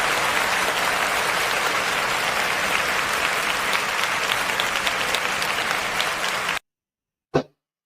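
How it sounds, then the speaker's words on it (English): An audience applauds steadily, a dense, loud wash of clapping lasting over six seconds before cutting off abruptly, followed by silence and one short burst. "So let's give her a round of applause."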